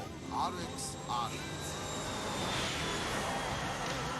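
A Subaru WRX-style car with a hood scoop sweeps past in a flyby, its engine roar building into a broad jet-like whoosh that swells toward the end, with a couple of brief chirps early on.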